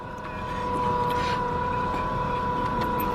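A 2000 Nissan Maxima engine with an idle malfunction idles steadily, a close, constant hum with a faint whine running the whole time, and nobody speaking.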